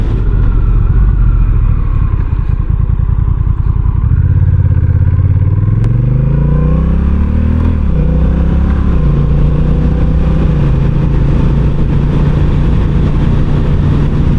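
A 2024 Honda Rebel 1100T motorcycle engine revs and accelerates, its pitch climbing steadily through the gears, loud and close with no talking.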